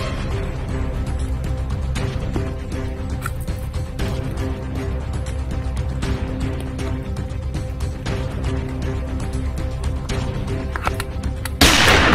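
Dense, continuous video game gunfire rattles loudly throughout, rapid shots from high-powered guns blending into a steady barrage, ending in a louder burst.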